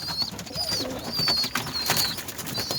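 Adana pigeons cooing in repeated soft phrases close by, with some rustling and a few brief higher calls scattered through, no talk.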